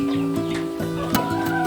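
Rhode Island Red and New Hampshire cross chickens cluck nearby in a brief burst of short, repeated calls lasting under two seconds, set against steady farmyard background noise.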